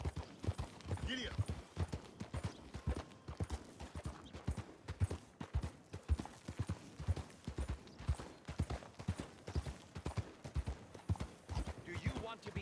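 Horse hooves clip-clop steadily and closely in Red Dead Redemption 2, a brisk, even rhythm running the whole way, with occasional voices and a brief whinny under the hoofbeats.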